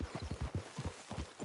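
Horse hooves clip-clop in a Western open-world video game, a quick uneven run of soft dull thuds at a steady trotting pace, moderately quiet and with no voices over them.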